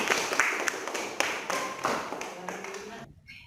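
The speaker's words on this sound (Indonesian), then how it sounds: "Kita kasih aplaus untuk kelompok 2." A classroom applauding a student group at an Islamic senior high school biology lesson, scattered moderately loud claps that thin out and stop abruptly near the end.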